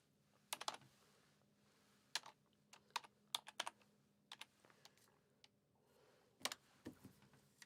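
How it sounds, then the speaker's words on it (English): Number typed on a computer keyboard, a handful of sharp close key clicks in short irregular bursts separated by quiet pauses. "There, I typed in the number."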